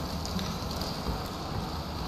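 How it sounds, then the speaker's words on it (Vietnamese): Heavy rain pours outside in the video game Bendy and the Dark Revival, a steady, even hiss of rainfall that holds constant throughout, with no talk. "ngoài trời mưa to thế nhở?"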